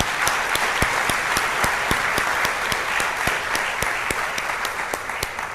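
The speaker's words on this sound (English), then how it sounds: "I want to give you a big round of applause." An audience at a fall welcome address claps loudly and steadily for several seconds, the dense patter of many hands filling the room with no one speaking.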